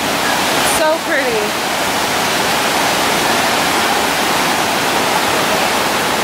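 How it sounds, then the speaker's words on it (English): A waterfall roars loud and close as a constant broadband rush, with a brief voice near the start. "Oh, so this is the waterfall."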